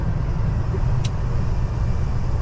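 A manual car cruising in highway traffic gives a steady, close engine and road rumble with tyre roar throughout. No distinct gear change stands out, and there is no talk.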